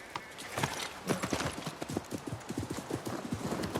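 Horse hooves clip-clopping in the video game Assassin's Creed Mirage, set in Baghdad: a close, irregular run of hoof strikes, with the occasional faint whinny.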